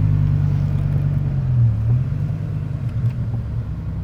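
A Porsche Boxster rolls past on a Saturday-night road in Naples, its engine a steady low rumble that swells slightly mid-way and stays loud and close throughout.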